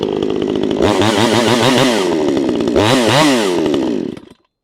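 A VEVOR 62cc gas chainsaw runs loud and close, idling roughly before revving up hard twice, then cutting off abruptly into silence.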